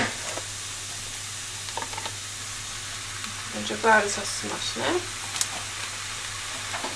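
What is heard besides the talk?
meat frying in a pan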